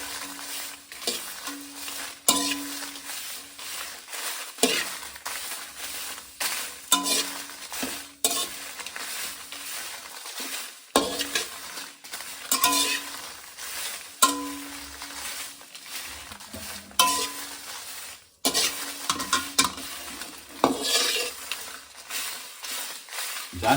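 Guntur red chillies dry-roasting on low flame in a pan, stirred steadily with a spatula, giving a continuous dry rustle and scrape with occasional metallic clinks, close and fairly loud, no voices.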